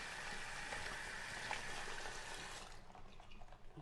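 A seahorse aquarium hitch is rinsed off under water, giving a soft, steady watery hiss that fades near the end, faint and with no talking.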